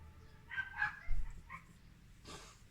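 A dog indoors gives a few short barks and yips, moderately close, spaced over a quiet background.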